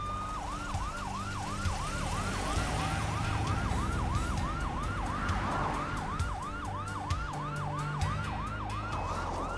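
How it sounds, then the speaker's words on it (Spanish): An ambulance siren wails in a fast, regular up-and-down cycle, loud and continuous throughout, with traffic rumble underneath and no talking. "Los paramédicos la suben a la ambulancia para llevarla al hospital de Hilo."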